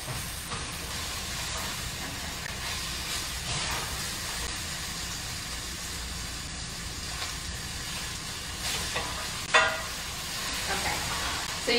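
Kale and summer greens cook in a full, high-sided frying pan for a frittata, giving a steady broadband hiss and sizzle throughout, with a few sharper crackles and no talking.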